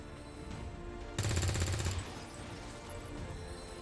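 Automatic gunfire in the tactical game XCOM 2, a rapid burst of shots lasting under a second over quiet ambient music, moderately loud and alone.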